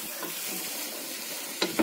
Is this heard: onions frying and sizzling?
yes